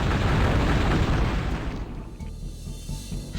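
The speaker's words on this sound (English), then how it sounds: "We'll break out the magic missiles." Magic missiles bursting in Hexen 2, a dense, loud blast with deep rumble that rolls on briefly before decaying into a softer, hollow tail.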